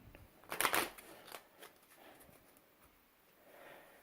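A quick burst of playing cards riffled and shuffled up close, followed by softer sliding and flicking sounds as cards are dealt out.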